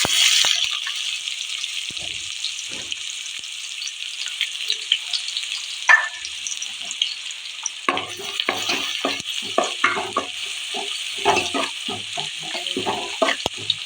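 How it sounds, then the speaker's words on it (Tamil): Two large onions sauté in a pan for fish curry, giving a continuous bright hiss of frying with sharp stirring scrapes and clinks that become frequent in the second half; no talking. "ரெண்டு பெரிய வெங்காயம் கழிச்சு வச்சிருக்கேன் அதை போட்டு"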